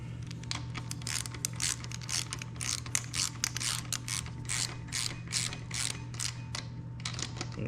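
Torque wrench clicking and ratcheting while bolts on a Honda CRF230F dirt bike are tightened in a cross pattern, with rapid repeated mechanical clicks over a steady low hum, close and fairly quiet.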